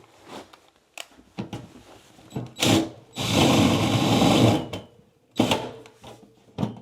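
A power drill bores through the metal flange of an HVAC duct boot, with several short bursts of whirring, then a longer sustained run that quickly breaks through, and brief trailing spurts, close and fairly loud.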